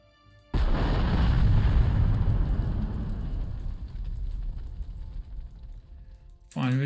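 Artillery is destroyed in the wargame Panzer Corps 2: a sudden loud boom gives way to a long rolling rumble that slowly fades, then a fresh sharp burst comes right at the end.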